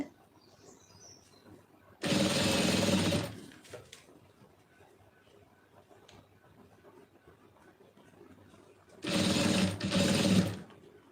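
A sewing machine stitching piping onto fabric runs in two loud, close bursts of rapid whirring, separated by a quiet pause with faint background sounds.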